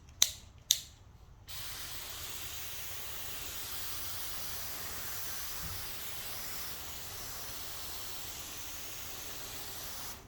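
A hose nozzle switched to its mist setting sprays water over a car treated with Rain-X Graphene spray wax. Two sharp clicks open, then an even, soft hiss continues to the end.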